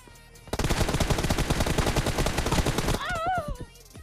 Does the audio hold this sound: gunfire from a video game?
yes